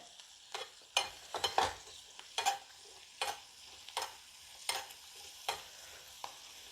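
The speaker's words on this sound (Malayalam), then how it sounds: "നമ്മൾ കുറച്ച് നെയ്യ് എടുത്തിട്ടേ ഈ മുന്തിരിയും ഈ കാഷ്യൂ ഒക്കെ ഒന്ന് വറുത്തെടുക്കുവാണേ" Raisins and cashews fry in ghee in a pan for mango payasam, a soft steady sizzle punctuated by about a dozen sharp scraping stirs at uneven intervals, close and fairly quiet.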